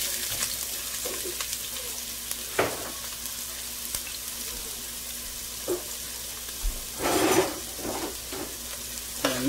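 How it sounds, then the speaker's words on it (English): Garlic and onions sizzle in oil in a pot, a steady low frying hiss with occasional stirring scrapes and clinks, and a brief louder burst near the end. "I added some oil into the pot and we're gonna start off with the garlic and onions."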